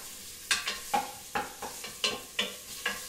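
Chicken fries in oil in a pot for a one-pot dish, stirred in a regular rhythm of about eight quick scraping strokes over a low, steady sizzle.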